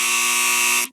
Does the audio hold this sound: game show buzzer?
yes